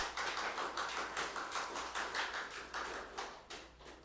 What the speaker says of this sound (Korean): 우리 박수 한번.